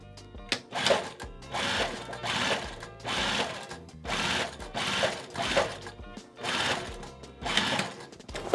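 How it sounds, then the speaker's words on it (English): A sewing machine top stitching a box bag, running in repeated bursts of rapid mechanical chatter separated by short pauses, close and clear, with no talking. "you can take it to your sewing machine and just throw a little 1/8 inch seam all the way down"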